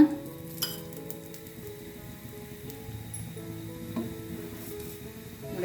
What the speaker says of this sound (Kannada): ಈ ರೊಟ್ಟಿ ಮೇಲೆ ಸ್ವಲ್ಪ ಎಣ್ಣೆನ ಹಾಕ್ಕೊಳ್ಳೋಣ